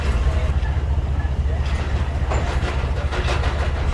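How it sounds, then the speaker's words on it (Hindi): The Pak Business Express train pulls out of Karachi Cantt station in the evening with a deep, steady rolling rumble and rhythmic wheel clacks, loud and close throughout. "तो खूबसूरत सी शाम में ट्रेन हमारे निकल रही है।"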